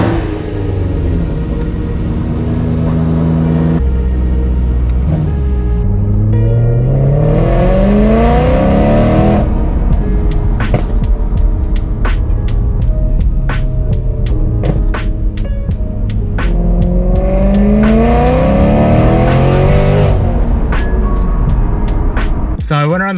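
A supercharged BMW M3 accelerates on the road, its engine climbing through repeated rising revs with gear changes between pulls, loud and close inside the cabin alongside steady road rumble.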